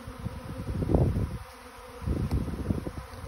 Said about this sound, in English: This hive here just swarmed there literally minutes ago, and it just calmed down.